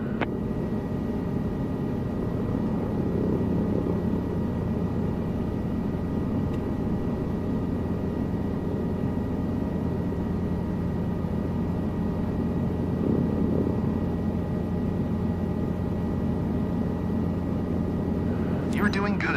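A helicopter engine in a flight simulator drones steadily throughout, a constant loud whirring hum with a faint rhythmic beat, while a voice talks over it.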